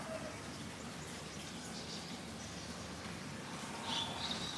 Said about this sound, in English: Had a thunderstorm and it's still raining, although it's eased off a little now.